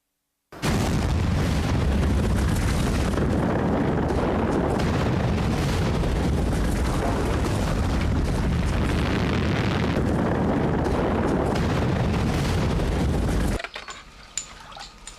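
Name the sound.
volcanic eruption explosion, Toba eruption in Sumatra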